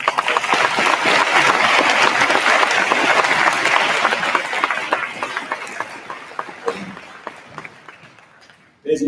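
A school gym crowd claps for a Veteran's Day assembly, a loud dense burst of applause that slowly thins and fades to a few scattered claps before stopping.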